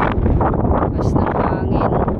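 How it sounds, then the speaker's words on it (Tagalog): Strong seashore wind buffets the microphone in a steady, loud low roar with gusty rustling throughout, alone and close. "Ano yung hangin oh."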